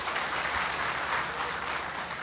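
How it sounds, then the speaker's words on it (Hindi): An audience claps in steady, dense applause at a public event in Kushinagar, Uttar Pradesh, loud and continuous throughout with no pauses. "इसके लिए सबसे पहले चाहूंगी कि आप सब तालियां बजा दें।"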